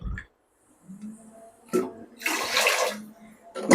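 Water is poured into a bowl of washed rice, a loud splashing pour at close range after a few quiet moments with faint speech.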